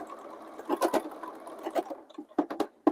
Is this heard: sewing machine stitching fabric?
yes